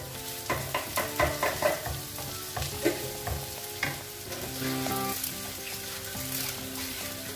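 Fresh curry leaves fry and sizzle in hot oil for a prawn pickle, with steady crackling and repeated scraping stirs, loud and close, no voices.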